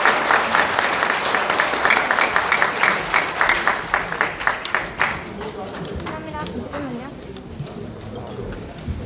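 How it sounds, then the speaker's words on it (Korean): An audience at a press conference on alleged vote-count manipulation in the April 15 general election applauds to welcome a speaker. The dense, sustained clapping fades after several seconds and gives way to quieter room sound and a voice. "우리 박수로 함께 모시겠습니다"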